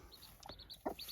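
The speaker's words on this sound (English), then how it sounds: "So one cute little chook." A single backyard chook gives a soft, brief cluck or two, close by but quiet, with a faint high chirping nearby.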